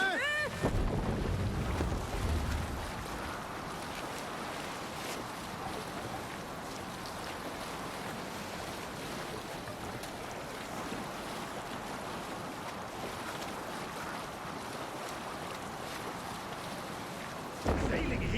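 Viking longship under sail on open sea in Assassin's Creed Valhalla, with steady rushing wind and washing waves filling the scene, loud and continuous from start to finish.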